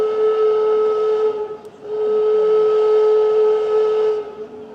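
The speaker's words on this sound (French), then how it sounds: "le sifflet fonctionne avec de l'air comprimé, donc pas de panache de vapeur blanche, mais le sifflet qui équipe le Vevey est celui de 1907." The 1907 whistle of the paddle steamer Vevey, now driven by compressed air instead of steam, blows one long steady tone with a short dip partway through, loud and close with no voices.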